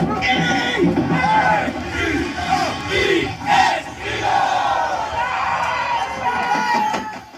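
A roaring Eagles crowd shouts and chants against the Dallas Cowboys at a rivalry football game, massed voices rising and falling in loud waves, with one louder swell midway.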